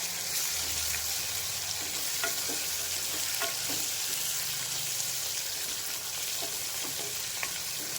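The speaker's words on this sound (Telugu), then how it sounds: "టమాటా వేసుకుందాం కట్ చేసి ఉంచుకున్న టమాటాలు రెండు కొద్దిగా టమాటా మగ్గాలండి ఇందులో" Chopped tomatoes, two of them, cooking in a pan for vegetable upma, giving a steady close sizzle and frying hiss with light stirring scrapes throughout, no talking over it.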